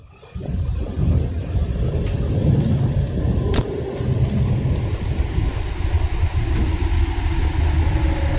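A subway train ride in the video game Platform 8 gives a steady, loud rumbling roar of rolling carriage noise with a low continuous drone and one brief sharp click partway through, and no one talks.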